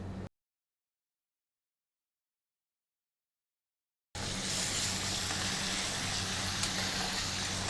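Finely chopped onions fry in hot oil for a country chicken curry, first a brief sizzle, then a dead gap, then a steady loud hiss of frying that carries on without a break.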